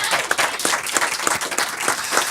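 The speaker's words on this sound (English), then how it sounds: "Round of applause for the Volcano Union Inn" Audience applause at a comedy show at the Volcano Union Inn in Volcano, a steady wash of many hands clapping, loud and close, sustained throughout with no talk.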